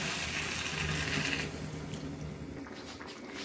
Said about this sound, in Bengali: এর মধ্যে এবার আমি খানিকটা জল দিয়ে দেবো।